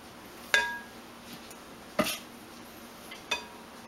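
Lye freshly poured into soapmaking oils being stirred by hand, giving three sharp, separate clinks of a utensil against the container in an otherwise quiet room.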